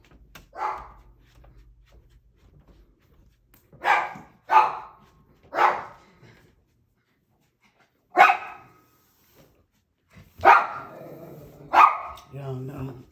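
A dog barks in short single woofs and doubled bursts spaced across the stretch, fairly close and loud against a quiet room.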